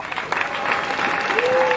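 A church congregation at a pastor's installation service in Boma claps steadily and densely, a close, even burst of applause with a faint voice or tone rising beneath it toward the end.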